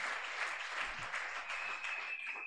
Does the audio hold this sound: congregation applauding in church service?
yes